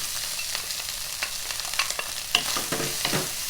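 Vegetarian sausage fried rice with beans is stir-fried in a pan with garlic oil: a spatula scrapes and clacks in an uneven rhythm over a steady close sizzle, with no talking.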